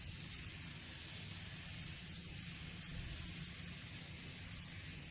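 A spray gun applies clear coat to car headlights, a steady close hiss that swells and eases slightly with each pass, with no voices.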